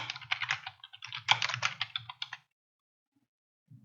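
Rapid typing on a computer keyboard, close and steady clicking for about two and a half seconds, then near silence with one brief soft tap at the end.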